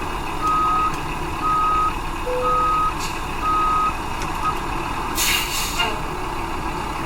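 Reversing beeps from a truck in American Truck Simulator, four evenly spaced electronic beeps over a steady engine rumble, with a burst of air-brake hiss near the end.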